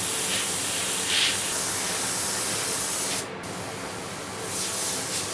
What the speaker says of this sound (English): I'll just put some white into my airbrush, and I'm just going to highlight the cracks and any other smaller areas